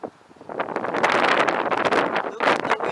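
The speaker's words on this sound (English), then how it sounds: "Look at the wind, it's very strong." Strong gusting wind buffets the microphone during a Mini SE drone flight, a loud roaring rumble that swells after a quieter start and stays heavy to the end.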